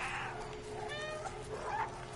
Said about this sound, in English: there's the meow button. I love the meow button. Press X to meow.